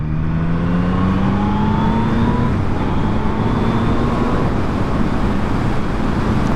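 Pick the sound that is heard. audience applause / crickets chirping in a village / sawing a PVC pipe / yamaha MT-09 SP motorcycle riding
yamaha MT-09 SP motorcycle riding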